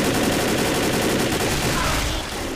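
Sustained, dense gunfire from Left 4 Dead fills the whole stretch at close range, a steady barrage of overlapping shots with no pauses and little sign of voices.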